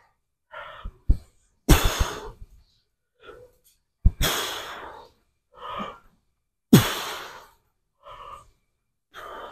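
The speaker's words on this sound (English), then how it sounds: "I like to breathe a lot." After a leg-day workout on high-stim pre-workout, a person breathes heavily up close, with loud gasping exhales and sharp coughs and snorts in an uneven rhythm, separated by short quiet gaps.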